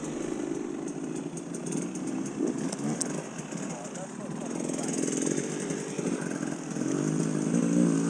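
GPX TSE 300R motorcycle engine buzzing steadily at low speed during slow clutch-controlled riding, moderately close, its pitch wavering slightly, with people talking over it.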